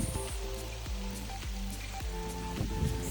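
Steady patter of monsoon rain falling on a surface at a farmhouse, close and continuous, with faint tonal background sounds and no speech.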